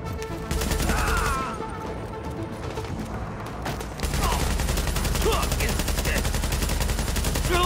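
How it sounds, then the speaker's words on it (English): Sustained rapid gunfire in the Tom Clancy's The Division video game, dense bursts and volleys running throughout, loud and close, with a brief dip in intensity midway before heavy firing resumes. "Shooting from above, I imagine."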